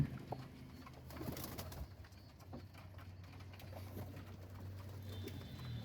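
Domestic pigeons coo in a breeding farm where they nest in coops, soft repeated throaty coos from several birds overlapping at moderate distance over quiet background with light fluttering.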